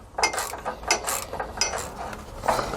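A ratcheting tool works a nut off the top side of the frame rail on the driver's side of a 2018 Winnebago, in quick bursts of close metallic clicking with short pauses between.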